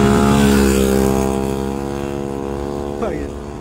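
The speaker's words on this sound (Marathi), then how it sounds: "ही आहे माझी कलेक्शन मधली first collected bike, SD D classic 1982 model आहे. हा बाईक ट्यून केलेली आहे." A tuned 1982 Yezdi D Classic with a 250cc single-cylinder engine runs close by in a steady, loud idle, its throb holding evenly before a short rev blip near the end.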